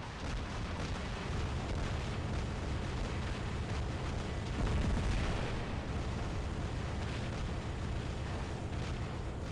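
Ember flamethrower weapon firing continuously in the War Robots mech game, a dense, loud roaring rumble with crackling bursts that holds steady throughout with no pauses.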